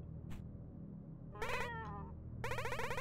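A cat character in the Momodora: Reverie Under the Moonlight video game gives a few short, clear meows, the first brief and faint, then a longer wavering call and a final loud meow.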